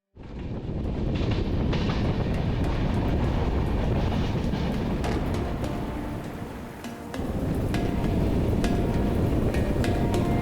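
Continuous loud rumble and clatter of a passenger train running on rails through Northeast India in the monsoon season, steady throughout with a brief dip near the middle; no speech.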